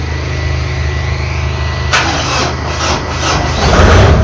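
A Japanese Kubota 95 hp tractor with a slightly weak battery fires up, its loud rough engine noise rising after a brief change and continuing steady and close.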